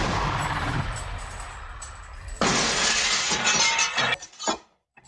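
Window glass is smashed: a loud, sudden shattering burst cuts through steady background noise, followed by a few scattered tinkles and crashes of falling shards before the sound cuts off abruptly.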